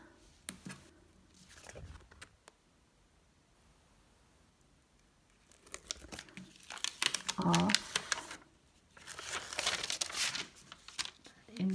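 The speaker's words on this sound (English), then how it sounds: "And then what I'm going to do is simply peel" Adhesive backing is peeled off a notebook cover, giving close, crinkly tearing and rustling bursts between quieter pauses while a person talks.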